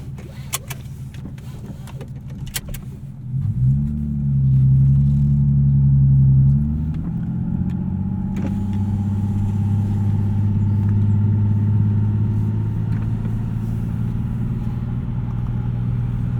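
A 2012 Nissan 370Z with a six-speed manual drives along, its exhaust swelling into a loud low drone that steadies into a continuous cruising rumble inside the cabin, with no talking.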